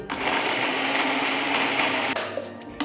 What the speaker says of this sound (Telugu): ముందు మనం నీళ్లు యాడ్ చేసుకోకుండా ఒక్కసారి మిక్సీ పట్టుకోవాలి